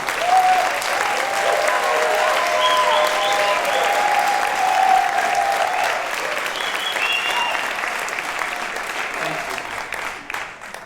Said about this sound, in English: let's join together to give a great big applause for all of our graduates.